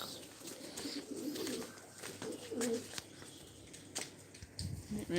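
Pigeons cooing in soft repeated bursts at a Punjabi pigeon-keeping spot, moderately near, with faint voices and background chatter mixed in.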